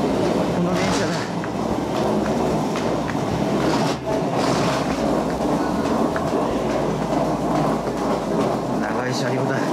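A long train at a Japanese station, with a steady rumble and rolling rail noise filling the scene, loud and continuous, while people talk over it.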